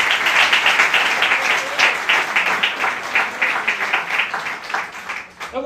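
Church congregation clapping for the Lord, a loud dense burst of applause from many hands that holds steady and then thins out at the end.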